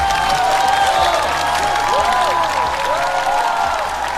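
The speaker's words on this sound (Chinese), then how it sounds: "再次掌声送给各位。" A studio audience at a Chinese roast comedy show claps in a loud, even wave of applause, with faint crowd murmur and some cheering mixed in.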